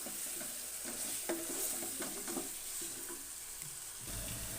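Korma ingredients fry in a pan with a steady, close sizzle, with occasional stirring scrapes rising through the hiss and a soft clunk near the end.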